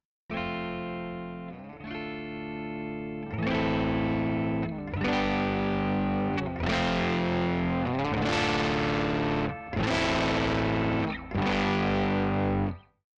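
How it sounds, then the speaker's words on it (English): Electric guitar run through a tube distortion effect, loud overdriven chords struck about eight times in a steady rhythm, each ringing out with a thick, saturated sustain before the next hit. "Drive control defines how much distortion is applied to the original signal."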